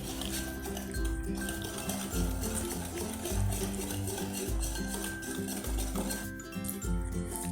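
Oil, milk powder and vanilla essence are whisked in a bowl, making steady rhythmic clinking and scraping close up, with faint music running underneath.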